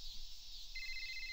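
In the video game Whack Your Neighbour, a phone rings on a call with a short electronic tone that starts partway through. The tone is brief, clear and close, with no talk over it.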